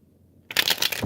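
Tarot cards being shuffled by hand: a quiet pause, then a dense, steady riffling and rustling burst that runs close and fairly loud to the end.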